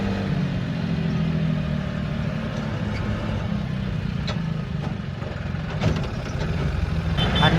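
Heavy tractor engine pulling a 25-ton load, a steady low rumble that runs unbroken throughout, with occasional clanks and rattles over the top.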